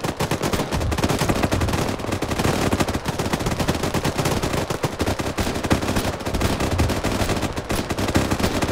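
Sustained automatic gunfire in a shootout, loud and close, with rapid bursts and overlapping shots rattling without pause.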